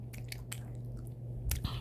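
Close, wet chewing of gum in a quiet room, with several soft smacking bites in an uneven rhythm over a low steady hum.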